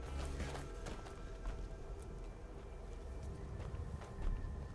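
A horse in Skyrim makes soft, steady hoofbeats over a constant low ambient rumble, with no voices.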